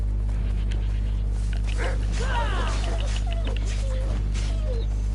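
Wolves attack in Assassin's Creed Odyssey with snarls, yelps and whimpering canine cries over a steady low game hum, with faint voice-like sounds mixed in.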